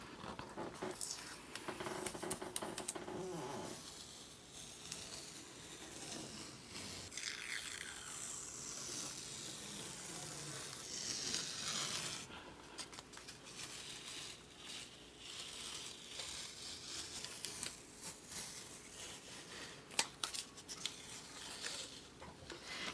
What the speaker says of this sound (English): Okay, so let's do our tape peel.